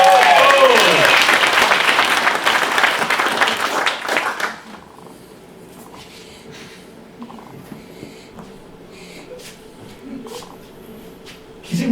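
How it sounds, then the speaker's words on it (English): Audience members at a Comic Relief 2020 charity improv comedy show clap loudly and briskly for about four seconds, then the clapping cuts off to a quiet room with faint movement. "All we need is a big round of applause."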